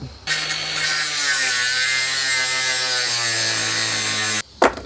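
A power cutting tool slices the excess threads off a suspension part on a Nissan 180SX in a garage. It makes a loud, steady, whining grind that lasts about four seconds, with the pitch sagging slightly, then stops abruptly.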